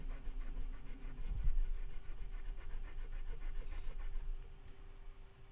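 Guitar frets on a PRS Angelus fretboard are rubbed with polishing compound, a close, steady back-and-forth rubbing rasp repeating in quick strokes, moderately loud with no talk.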